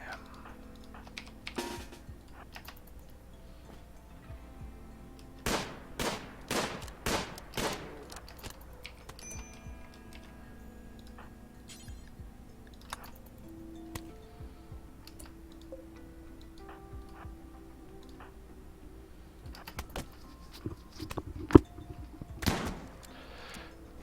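Gunfire in the RimWorld colony game: a quick burst of five or six sharp shots in a row, then a few scattered shots later, set against soft clicks and light game noise.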